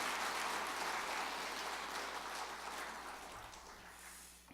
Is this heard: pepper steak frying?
no